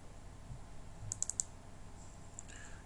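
Computer mouse double-clicked while working in SIPROTEC 5 protection relay software, two quick pairs of faint crisp clicks in a quiet room with low background hiss.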